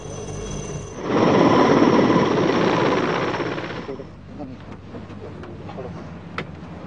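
A loud military helicopter rotor roar swells in after a second, holds for a few seconds, then fades into quieter background noise with faint clatter.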